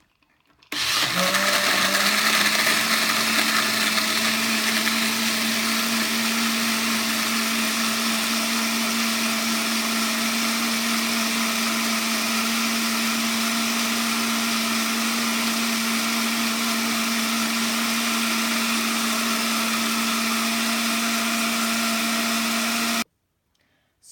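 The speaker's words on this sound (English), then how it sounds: "now we're gonna blend it" An electric blender whirs loudly as it blends soaked rice, water, ice and cinnamon stick for horchata, starting abruptly, holding a steady high-pitched drone for about twenty seconds, then cutting off.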